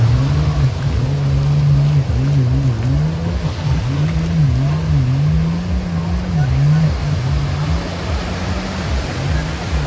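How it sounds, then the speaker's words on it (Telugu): At Calangute Beach in Goa, a speedboat engine drones low and loud nearby, its pitch rising and falling unevenly as it revs, over a steady wash of surf and wind. "ఇక్కడ స్పీడ్ బోట్ స్టార్ట్ అవుతుంది."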